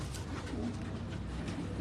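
Kasuri pigeons coo on a rooftop in Karachi, a soft low murmuring call heard close against steady background noise.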